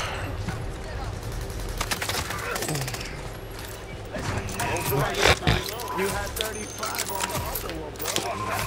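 A video game shootout fills the scene with rapid bursts and single shots of gunfire, loud and close in places, while players talk excitedly over the noise.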